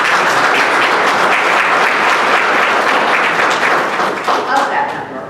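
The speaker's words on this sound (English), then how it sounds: "Can we get a round of applause?" Sustained, dense applause from an audience at a men's volleyball program announcement at Benedict College. It is loud and steady throughout and tapers slightly at the end.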